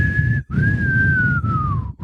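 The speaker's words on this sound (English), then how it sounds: "I don't know how to whistle that part." A person whistles a song tune in a clear, sustained melody that glides gently downward, broken by two brief pauses for breath, close and fairly loud over a low background rumble.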